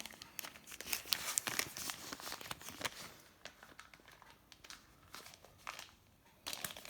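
Small plastic box holding a few resins being handled and pried open, giving rapid crinkling and crackling plastic rustles in close bursts, busiest in the first three seconds, then quieter with a few later snaps.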